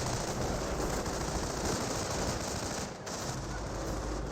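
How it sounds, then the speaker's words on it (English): Sustained machine gun suppressive fire in the WWII strategy game Company of Heroes, a dense, continuous rattle of automatic bursts with a brief dip near the end, with no talk over it. "we got some suppressive fire onto this nice crossholders there"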